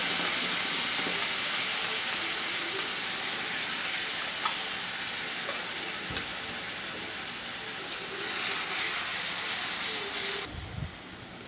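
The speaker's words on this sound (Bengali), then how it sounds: "যে মশলাটা রেডি করে রেখেছিলাম সেই মশলাটা ছেড়ে দিলাম।" Spice paste sizzling in hot oil with cumin seeds and a torn bay leaf, a steady broad frying hiss that holds throughout with a few small pops and stirring scrapes, close and unbroken, fading slightly near the end.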